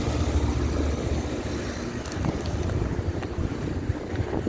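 A 2017 4-ton HVAC condenser unit running in poor condition, giving a continuous loud rumbling drone with steady broadband noise and no talk over it.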